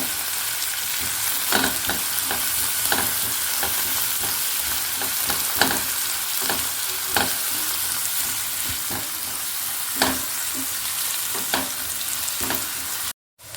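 Onions sautéing in a pan with a pinch of salt added, a steady close sizzle broken by regular scraping stirs, about one every second or two, with no talk; sound cuts out abruptly at the very end.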